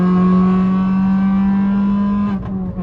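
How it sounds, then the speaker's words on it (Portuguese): A Suzuki SX4 car engine pulls under acceleration, a loud, close, droning tone held steady for over two seconds before it eases off and wavers as the revs change. "Também esse carro é só movido a barulho"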